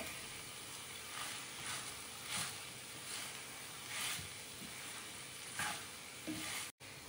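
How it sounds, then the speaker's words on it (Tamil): Vegetable hakka noodles with paneer are tossed in a pan, giving soft, steady sizzling with repeated scraping stir strokes at close range, fairly quiet throughout. "இப்போ வந்து நூடுல்ஸ் போட்டு மிக்ஸ் பண்ணிடலாம்."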